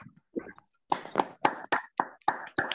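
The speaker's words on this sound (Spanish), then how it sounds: "quiero abrir los micrófonos para pedir un fuerte aplauso" Scattered applause from a small audience after a talk on human rights policy, a few sparse claps at first, then a short run of quiet, distinct hand claps.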